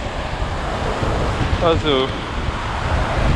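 Wind gusting along the Lycian coast of Turkey, a steady close roar with waves washing on the shore, and a voice speaking briefly in the middle.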